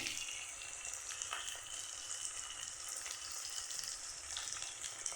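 Potatoes and garlic fry in a pan, making a steady bright hiss of hot oil with faint stirring clicks now and then.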